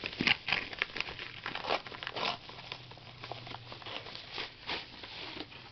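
An Amazon parcel is pulled open by hand without cutting, close crinkling and tearing of packaging in short irregular bursts, fairly quiet.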